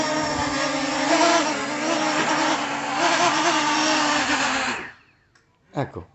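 A small, low-cost drone lands on a table, its propellers giving a loud, steady high buzzing whine that cuts off abruptly, followed by a few soft knocks and bumps.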